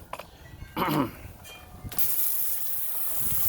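An auto foam gun nozzle lets out a strong continuous hissing spray after a few scattered clicks and handling knocks, staying steady and close to the end.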